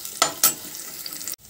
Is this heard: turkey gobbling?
no